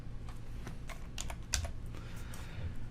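Quick, light keystrokes on a computer keyboard while editing text, an irregular close patter of clicks with a few firmer taps, no voices.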